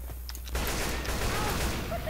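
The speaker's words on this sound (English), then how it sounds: "Did you just hit me with a grenade launcher?" In the co-op zombie shooter Left 4 Dead 2, weapon fire goes off: a quiet stretch, then a loud burst with the boom of a grenade launcher and continuing noisy rumble from the blast and gunfire.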